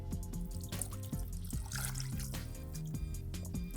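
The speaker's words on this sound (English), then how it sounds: "And we're going to add our water." Water is poured into a pan holding cardamom pods and cloves, giving a brief splashing rush over steady background music.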